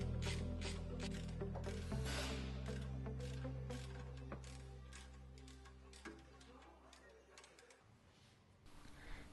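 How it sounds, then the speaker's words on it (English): A ratchet with a Torx bit tightens brake bolts on a BMW during a brake disc and pad job, giving off quick close clicking with a low mechanical hum underneath. "Tighten the bolts with your ratchet and Torx bit."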